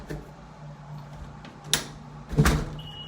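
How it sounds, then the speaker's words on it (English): A door at a home for sale being closed and locked, heard as two sharp knocks and clicks about a second apart over faint room hum, close by. "So I'm gonna lock the door so nobody's coming up behind me."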